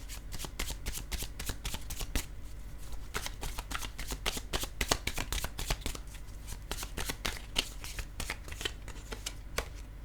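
A deck of oracle cards shuffled by hand before a single card is drawn: rapid, crisp riffling and slapping of cards in dense bursts, close and steady for the whole stretch, with no talking.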